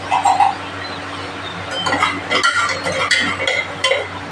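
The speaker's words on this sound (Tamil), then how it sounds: "தாளிக்கிறேன்" Spices, including fenugreek seeds, are tempered in hot oil in a pan. The crackling sizzle comes with stirring and scraping, close and fairly loud, and it grows busier after a quiet start.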